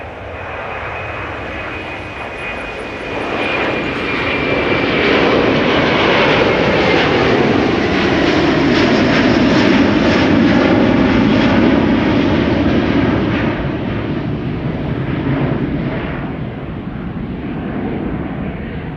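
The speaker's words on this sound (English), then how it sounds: "Here is Delta Airlines flight 163 to Minneapolis, Minnesota. Another A330-300." A Delta Airlines Airbus A330-300 jet departs Schiphol, its engines swelling into a loud, sustained roar that holds steady for many seconds, then eases slightly as it climbs away.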